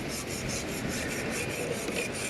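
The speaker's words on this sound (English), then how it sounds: "Sharpening our knives," A knife blade is sharpened on a beachside sharpening stone at White Beach, Boracay, a close steady rasping rub with regular strokes and no talk.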